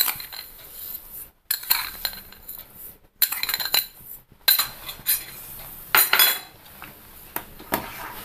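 Custard milk stirred continuously in a pan for fruit salad, with a spoon scraping and clinking against the metal in a steady run of close, bright taps and scrapes, briefly broken by short pauses.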